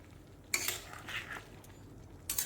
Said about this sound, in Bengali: দেখো সবগুলো দিয়ে আমি নাড়াচাড়া করে ভালো করে মিশিয়ে